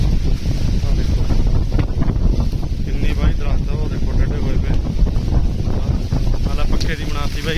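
Strong gusty wind buffeting the microphone on a farm field as rain clouds gather, a loud continuous roar with a voice talking faintly underneath.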